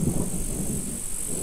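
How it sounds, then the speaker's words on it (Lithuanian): Thunder from a storm close by ahead of rain, on a hot summer day, rolls as a steady low rumble under a constant hiss, with no voices. "kai jau girdi perkūnė jau netoli"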